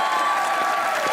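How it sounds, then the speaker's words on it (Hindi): A studio audience at a television talk show breaks into dense, steady applause, many hands clapping close together in a brief, full burst. "तालियां।"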